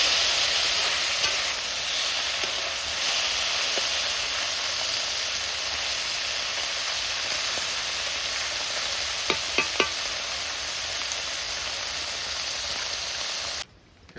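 Desi jarada fish frying in hot oil: a steady, loud sizzle and hiss continues throughout, with faint clicks and stirring taps, and cuts off abruptly at the end.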